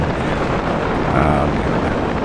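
Wind rushes loudly and steadily past a moving motorcycle at moderate speed, a continuous roaring buffet against the microphone with no pauses.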